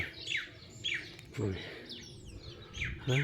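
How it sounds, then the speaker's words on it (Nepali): Short bird chirps and tweets repeat through the clip, fairly close, over a noisy outdoor background with a couple of louder bursts, at Marnong Estate in Mickleham, Victoria, Australia. "चरा हो"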